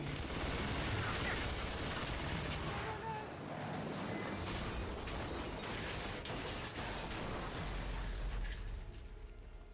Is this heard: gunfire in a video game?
yes